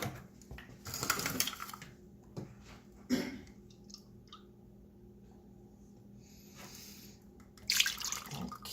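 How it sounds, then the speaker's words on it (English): Milk pours into chocolate cupcake batter in a home kitchen, heard as short splashy bursts near the start and again at the end, with quieter handling in between. "I'm adding in 3/4 cup of milk."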